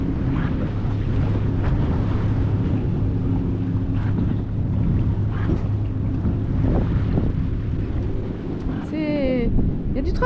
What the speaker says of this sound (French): Il y a du trafic ici quand même, hein. Beaucoup de bateaux moteurs là.